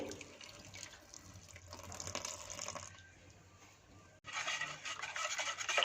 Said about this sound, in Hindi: इसमें थोड़ा थोड़ा करके पानी आधा कप शामिल करेंगे